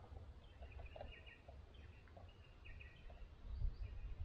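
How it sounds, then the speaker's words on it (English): Birds calling around Ball Creek Shelter on the Bibbulmun Track: faint, scattered chirps and short calls drifting from a distance over a low wind rumble in open bush. "And the sound of the birds."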